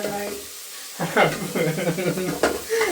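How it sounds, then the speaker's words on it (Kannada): Tomatoes frying in a pan for sambar, a crackling sizzle with stirring scrapes starting after a brief pause, close and fairly loud. "ಆ್ಯಪಲ್ ಟೊಮೆಟೊ ಬಿಟ್ಟರೆ ನಾಟಿ ಟೊಮೆಟೊನ ಬರೋದು ಇದನ್ನು ಚೆನ್ನಾಗಿ ಫ್ರೈ ಮಾಡ್ಕೊಳ್ಳಿ"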